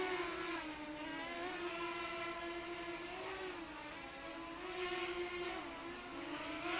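A 5-inch racing quadcopter on a 5S battery hovers at part throttle, its motors and props giving a steady, loud, nasal whine that wavers slightly in pitch throughout, with no voices.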